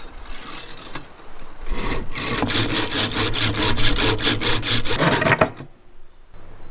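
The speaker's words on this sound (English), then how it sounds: "take the saw and start sawing" A hand saw rasps back and forth in steady rapid strokes through roe deer skull bone, close and loud, stopping abruptly near the end.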